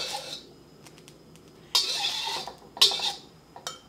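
Eggs being scooped out of a pan into a bowl while making pineapple fried rice with chicken, heard as a few short metallic scrapes and clinks of utensil on cookware, fairly close and separated by quiet gaps.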